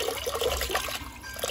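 Water sloshing and trickling over rice being washed for a meal of basmati-style white rice, soft close splashes and dribbles in an uneven rhythm.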